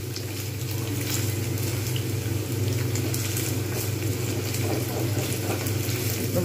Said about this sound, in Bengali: এরকমভাবে আমি কিন্তু খুব সুন্দর করে ফ্রাই করে নেব।